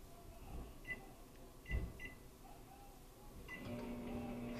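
A kitchen timer gives a few faint, short beeps while its time is set, with a longer tone near the end, heard quietly in a home kitchen among low background noise.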